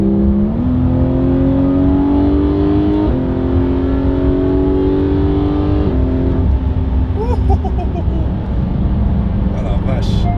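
A Porsche 911 GT3 engine revving while driving, a loud, close, rising engine note that climbs through the gears with sharp shift steps, heard from inside the car with brief voices over it.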